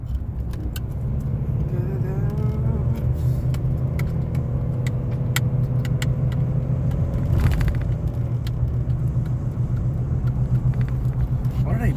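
A car rolls along a road with a steady low engine rumble and road noise, heard from inside the vehicle while a person talks over it.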